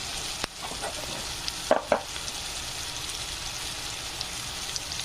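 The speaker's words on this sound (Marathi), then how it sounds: "आपल्याला टाकून घ्यायची आहे भेंडी." Okra dropped into a hot pan of already-fried spices gives a steady frying sizzle with stirring, a few brief louder hits near the start, and no talking.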